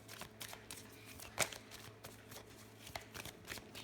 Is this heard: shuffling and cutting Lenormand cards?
yes